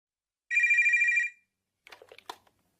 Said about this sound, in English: I had a phone call from Samira